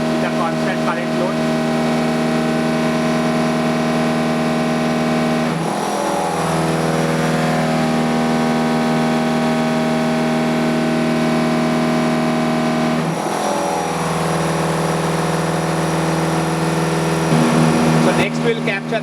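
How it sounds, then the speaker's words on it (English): An electrical generator runs steadily under a constant current load on a lab test rig, giving a loud continuous hum with stable tones that shift in pitch twice. "loading the generator with a constant current load"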